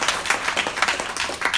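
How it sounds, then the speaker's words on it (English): Audience applause at the Goalball UK end-of-season awards ceremony, a steady wash of many hands clapping at moderate loudness, continuing evenly with no voices over it. "So a big round of applause."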